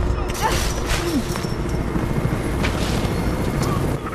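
A helicopter in the video game Mirror's Edge gives a constant rotor rumble close up, mixed with loud game noise and bursts of action. It carries on steadily for several seconds.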